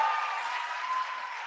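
An audience at a poetry recitation event cheers and applauds a poet, giving a brief, steady burst of clapping that fills the room at moderate loudness and tapers slightly toward the end.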